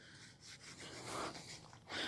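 A cloth rubbing a magnet clean inside the transmission pan of a 2002 Toyota RAV4 with a U140F automatic, a soft, continuous close wiping with a slightly stronger swipe at the end.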